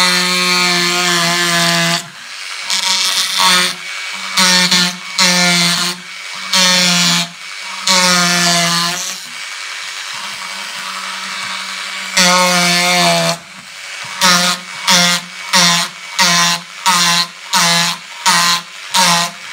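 A high-pitched Proxxon rotary wood-carving tool whines in repeated bursts, revving up and cutting off, with longer runs early and quick short pulses toward the end.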